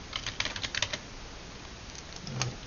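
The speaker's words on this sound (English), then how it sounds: "I'm gonna type my name, type my last name." Someone types a fresh email address and name on a computer keyboard, with soft, quiet, uneven key clicks in quick clusters during the first second, then sparser taps and a low thump near the end.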